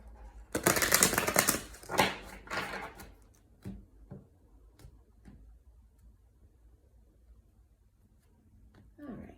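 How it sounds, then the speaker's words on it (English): A brief burst of tarot cards being shuffled, quick riffling and slapping, then a few soft taps and faint handling sounds in a quiet room. "Okay, we'll do one last shuffle."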